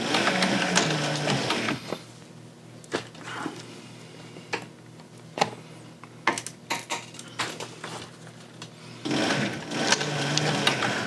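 A sewing machine stitches the seam of a kidney bean purse, whirring in steady runs at the start and end with scattered clicks and taps in the quieter middle stretch.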